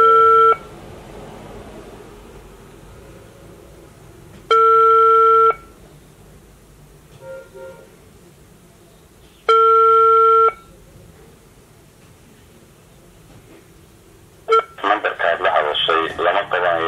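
Three evenly spaced ringback tones sound on an unanswered call to a regional administration telephone in Salal. After a long pause, a recorded operator voice begins to speak.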